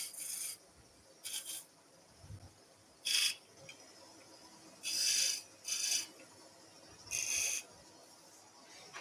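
Scraping a bead into a wooden salt and pepper grinder on the lathe, heard as about seven short, bright rasping strokes at an uneven rhythm, each under a second, close by and fairly quiet over a low hum.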